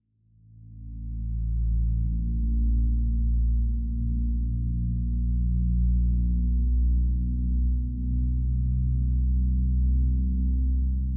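Underwater Jim preset from the NI 25 instrument plugin, a deep, murky low drone that swells in and holds steady with slow, wavering pitch movement, alone and fairly loud.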